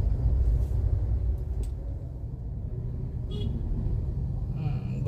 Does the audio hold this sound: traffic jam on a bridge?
yes